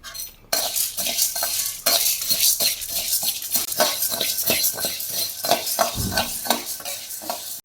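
Pepper and four dried red chillies dry roast in a pan for curry leaf podi, with repeated scraping stirs of a spoon and light clinks against the metal, close and steady.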